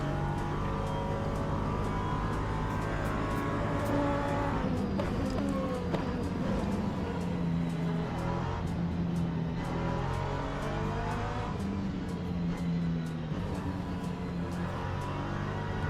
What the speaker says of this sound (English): There's just a car doing a drift in front of us.